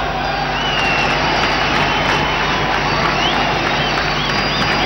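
Dense, steady roar of a large cricket crowd at a 1996 Pakistan v India match in Sharjah, a continuous loud wash of cheering and chatter with occasional whistles, filling the whole stretch without pause.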